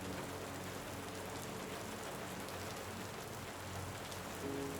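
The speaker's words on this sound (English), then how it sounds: "allow the gentle rain sounds to guide you to a feeling of relaxation and peace" Gentle rain falls steadily as a soft, even hiss of drops on surfaces, continuous and calm with no voices.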